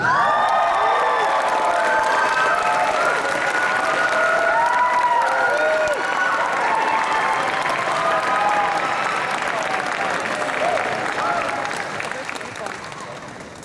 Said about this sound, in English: let's give a huge round of applause for Jam Project